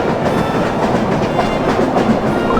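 A steady, dense rumble of a train rolling along rails in the Cookie Run: Kingdom Holiday Express game, loud and continuous with faint rhythmic clatter and no voices.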